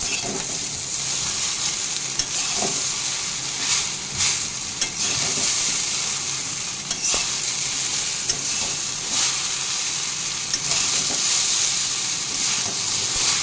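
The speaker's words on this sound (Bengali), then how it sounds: "এবার ভালো করে চাউমিনটা ভাজতে থাকবো।" Egg chow mein with potato and onion stir-fries in a pan with a loud, continuous sizzle and hiss, broken by repeated scraping and tossing knocks of the stirring, close up with no talk.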